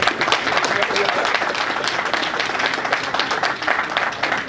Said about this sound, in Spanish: Un aplauso fuerte para nuestro líder